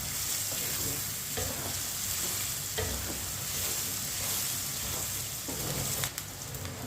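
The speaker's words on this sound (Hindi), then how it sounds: "प्याज को 2 मिनट के लिए पका लेंगे चम्मच चलाते हुए।" Onions cook in a pan while a spoon stirs them, giving a soft, steady sizzle. Occasional faint scrapes and clicks sit over the low hiss.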